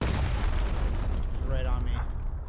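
Grenades exploding during PUBG gameplay on Xbox One: a dense, sustained low rumble of booms that fills the whole stretch, loud and close, with a voice briefly heard partway through.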